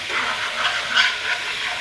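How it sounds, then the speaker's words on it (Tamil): Sugar caramelizing in a pan for rava halwa gives a steady, soft sizzling hiss with a slight swell near the middle, heard alone without any talk. "இப்போ சர்க்கரை வந்து கேரமலைஸ் ஆகிட்டுருக்கு."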